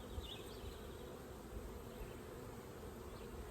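Honeybees in a crowded homestead hive give off a dense, continuous buzzing hum, faint and steady, with no voices.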